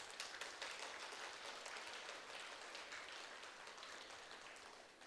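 A meditation gathering's audience claps for Brahmarshi Patriji, giving a dense, steady patter of many hands that stays fairly faint and distant and fades a little toward the end.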